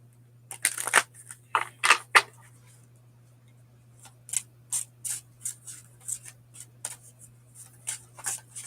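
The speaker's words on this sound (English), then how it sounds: "I'll give it one shuffle." Oracle cards being shuffled by hand, a few brisk papery riffles and flicks up close, then a string of lighter taps and snaps, with a steady low hum underneath and no talking.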